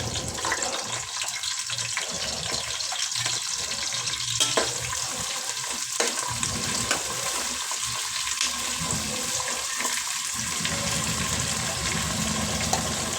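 Three sliced large onions and slit green chilies fry in a pan for coconut milk rice, making a steady, loud, close sizzle with a continuous hiss and small crackles throughout.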